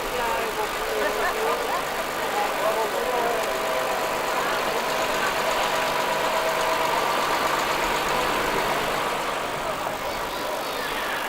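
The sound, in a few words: Volvo F12 truck engine running at a road run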